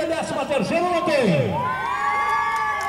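Crowd cheering and whooping at a rodeo competition, a Prova Campeira at the 29º Entrevero Cultural de Peões, loud shouts rising under an announcer's amplified voice.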